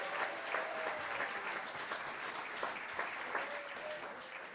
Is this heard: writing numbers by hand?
no